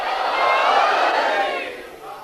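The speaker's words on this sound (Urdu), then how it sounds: "یہ سب نعرے ہیں آپ کی طرف سے، آپ کے جذبہ ایمانی کے" A large religious gathering roars out chanted slogans together, a loud, sustained wall of many voices that swells and then eases slightly.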